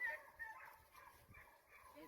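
Hunting dogs bark faintly in the distance at a coyote pen during a youth coyote hunt, their yips half buried under nearby talking and outdoor background noise.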